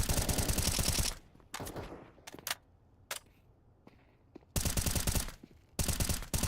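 Counter-Strike gunfire during a competitive match: loud bursts of automatic fire with a few isolated single shots in between, separated by stretches of quiet.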